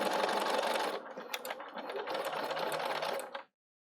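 A Bernina 770 sewing machine stitches in a steady, close mechanical whirr, pausing briefly near the start, then running again before cutting off abruptly into silence.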